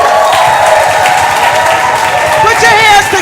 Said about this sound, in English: Give me a round of applause for that, y'all